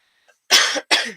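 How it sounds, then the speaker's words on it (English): Two sharp, close coughs in rapid succession, loud and raspy, with no talking. "Forgive me for a cough."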